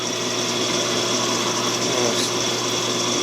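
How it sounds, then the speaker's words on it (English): A power drill with a 1/4 inch bit bores through the stacked metal of a gate latch, giving a steady, close, high-pitched whine that holds constant for a few seconds with no talking. "I'm drilling through both sets of material."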